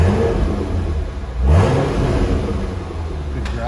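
A car engine idles with a low growl, heard from outside the parked car, with a brief rev swelling near the middle before settling back to a steady rumble.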